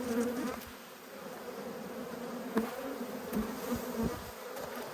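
Honey bees hum close by during a late winter hive inspection, a continuous soft buzzing with occasional louder passes of individual bees near the frames.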